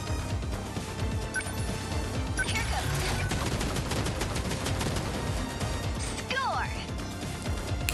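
Long-range missile and gunfire barrage in the mech strategy game 13 Sentinels: Aegis Rim, a dense continuous volley of blasts and crackling impacts over a steady rumble, with a voice talking over the action throughout.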